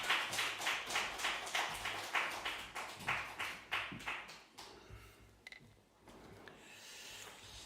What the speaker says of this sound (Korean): 우리 나오실 때 우리 박수로 맞이해 주시길 부탁을 드리겠습니다.